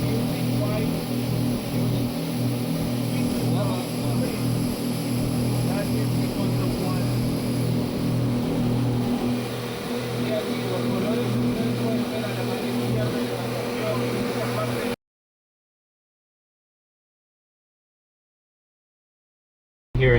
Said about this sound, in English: That sound comes from that boat on the left side, that big ship, black and red.